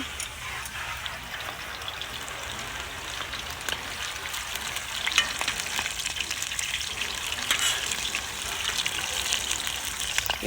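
Steady hissing sizzle of turmeric-coated fish frying in a hot pan, continuous and fairly close, with occasional louder pops and crackles.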